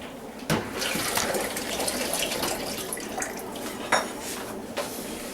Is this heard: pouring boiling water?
yes